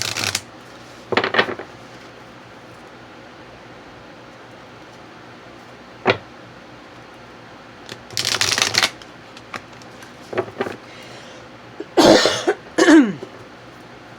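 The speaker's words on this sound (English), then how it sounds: "I do tend to cough and clear my throat a bit when I'm doing readings" A woman coughs and clears her throat several times in short separate bursts, close to the microphone, with quiet pauses between them in an otherwise still room.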